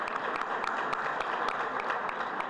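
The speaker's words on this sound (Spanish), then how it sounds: "Un aplauso, por favor." An audience at a conference breakfast applauds a speaker being introduced, with many hands clapping together in a steady, even wash and a few sharper individual claps standing out near the front.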